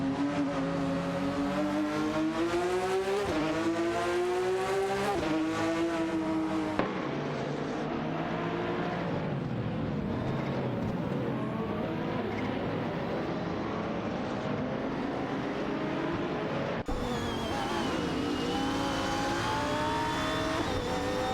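GT3 race cars, including a Renault Sport RS1 GT3 and a Ferrari 488, roar through a racing video game, engines revving and shifting in rising and falling whines, loud and continuous, cutting between cars.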